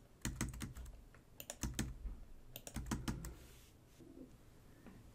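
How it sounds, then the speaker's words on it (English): Fingers type on a computer keyboard, entering data into a table, in quick close bursts of clicking keystrokes separated by short pauses, fading to a few scattered taps at the end. "And then type in your data."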